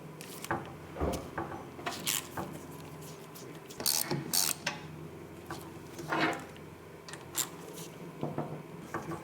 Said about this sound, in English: Remove this bolt.